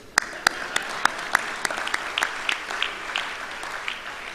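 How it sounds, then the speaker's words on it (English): Sparse, deliberate clapping at the Jamaica Product Exchange trade show, a few sharp individual claps spaced in a slow rhythm over a soft background wash of audience clapping. "let me clap you for that"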